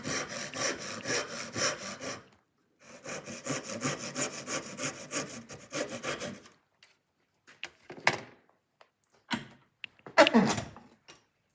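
A freshly sharpened Irwin tenon saw cuts through wood in two long runs of quick, even back-and-forth strokes, close and clear, followed by a few scattered scrapes and knocks.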